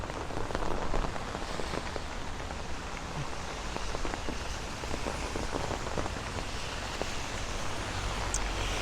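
Heavy thunderstorm rain in Bay Ridge and Dyker Heights, Brooklyn, New York City, a dense steady roar of rain on pavement and an umbrella with close patter, no talk.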